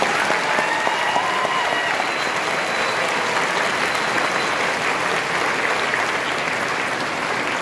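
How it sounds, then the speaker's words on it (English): Sustained audience applause for student scholars at a Hmong school event, a steady wash of many hands clapping at full level throughout, with a faint voice briefly audible beneath. "Please give them a round of applause for our scholars"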